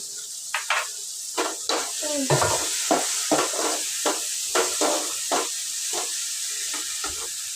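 Spices and chili powder are stirred through a frying mix of cooked lentils in a pan, with repeated scraping strokes of the spoon over a soft, steady sizzle.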